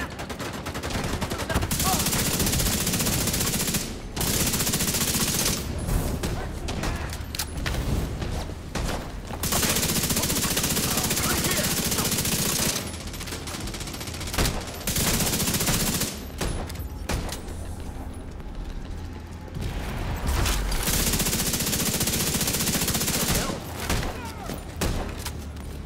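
Heavy gunfire roars almost without pause in The Division 2: Warlords of New York, loud sustained automatic bursts broken by a few short gaps, with occasional low booms and faint voices underneath.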